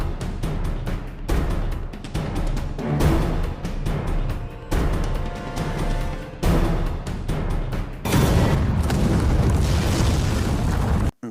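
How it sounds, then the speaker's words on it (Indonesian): Dozens of grenades going off in an action film: a string of loud, booming blasts follows one after another, each with a rumbling tail, building to a final heavy burst before cutting off abruptly. "Karena begitu puluhan granat meledak"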